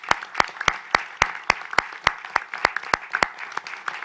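An audience at a press conference gives a round of applause, with sharp, evenly spaced claps that sound like a small group or a single clapper close by.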